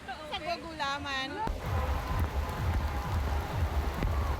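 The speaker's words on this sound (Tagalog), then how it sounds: "buhos ng malakas na ulan" Steady heavy rain hisses and patters on a surface at an outdoor food festival in Toronto, with voices and a brief tonal sound at the start before the downpour dominates.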